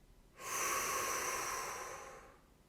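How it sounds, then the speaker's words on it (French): A single strong, energetic exhalation through the mouth during a children's relaxation breathing exercise, a steady airy rush lasting about two seconds, close and clear, then fading out. "et expirez énergiquement."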